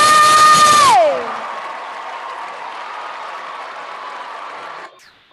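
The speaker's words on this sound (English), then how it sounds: "Let's give Dwayne another round of applause" A graduation ceremony audience at a high school commencement claps in a steady wash of applause that continues at a moderate level for several seconds after a sustained tone cuts off, fading out at the end.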